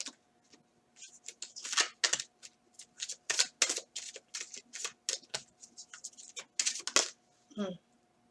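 Tarot cards are shuffled in quick, crisp riffling bursts, repeated over several seconds, fairly close, with a soft low hum underneath.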